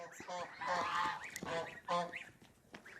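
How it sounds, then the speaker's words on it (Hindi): A duck gives several loud nasal quacks in quick, uneven bursts, heard close and clear with short gaps between calls. "बतख आ गई"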